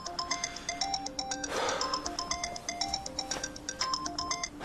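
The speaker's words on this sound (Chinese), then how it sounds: "我接电话" A telephone plays a bright, repeating melodic ringtone, steady and fairly close, with two brief bursts of rustling noise partway through and no talking.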